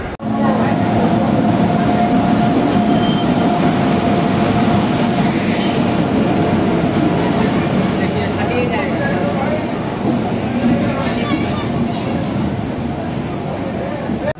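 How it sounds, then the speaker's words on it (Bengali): A train pulls in at a busy station platform where crowded general coaches wait, a loud, steady low rumble and hiss of the rolling train filling the whole stretch, with indistinct voices mixed underneath. "ট্রেন চলে এসছে এখানে"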